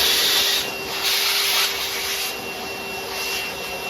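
A shop vacuum in blower mode pushes air over wet French horn parts to dry them, a steady close whooshing rush with a faint tonal whine and slight surges as the airflow shifts.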